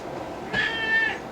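A pet cat gives a single short, clear meow in a quiet kitchen.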